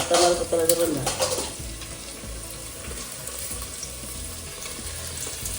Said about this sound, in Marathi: आता ही फोडणी परतवून घ्यायची ना परतून घ्यायचं